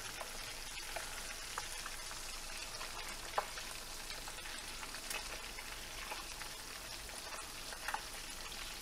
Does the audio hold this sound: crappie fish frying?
yes